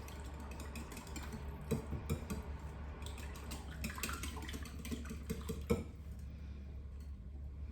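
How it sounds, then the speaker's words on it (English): Whisking pineapple into a salad mixture in a bowl gives soft, irregular clinks and wet stirring taps, faint and close, over a low steady background hum. "And again, just whisk it in."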